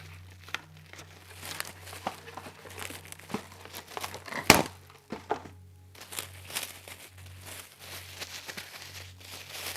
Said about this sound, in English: I will take some saran wrap, plastic wrap